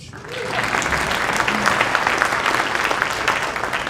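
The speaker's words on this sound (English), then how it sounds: "You can clap for him." Audience applause at a startup tech event, a dense wash of many hands clapping that swells in after a brief pause and stays loud and steady throughout, with no speech over it.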